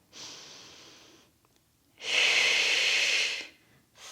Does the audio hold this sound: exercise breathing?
yes